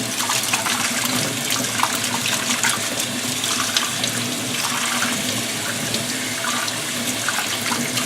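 Tap water runs steadily over aquarium gravel being rinsed in a strainer, a continuous broadband splashing and hiss lasting throughout with no pauses, fairly close and alone without talk.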